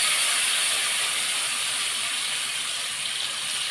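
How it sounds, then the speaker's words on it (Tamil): Ground thuthuvalai leaf paste frying in oil over a low flame, a steady, even sizzling hiss, close and continuous without pauses or talk. "இது இந்த எண்ணெயிலே நல்லா வதங்கணும்."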